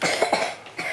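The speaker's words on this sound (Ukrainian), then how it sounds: "Ану, покашляй." A child coughs three quick times in close succession, near and fairly loud.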